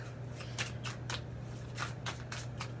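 Tarot cards being shuffled in a series of brisk, papery rustling bursts, roughly half a second apart, fairly close, over a steady low electrical hum.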